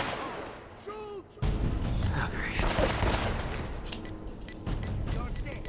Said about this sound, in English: That's a grenade. That was a grenade.